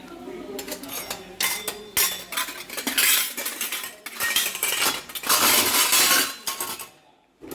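Metal dishes, vessels and spoons are picked up and set down in a domestic kitchen, making loud clattering and clinking bursts in quick irregular runs before the noise suddenly stops.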